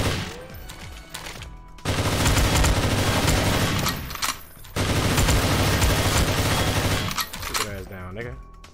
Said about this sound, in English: Laser gun on deck. Shoot through the walls.